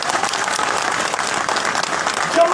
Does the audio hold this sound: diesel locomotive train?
no